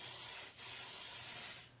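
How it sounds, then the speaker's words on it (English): Extra hold hair spray misted onto a wig in a steady hissing spray, with a short break partway through before it resumes and tapers off. "I use a lot of hair spray."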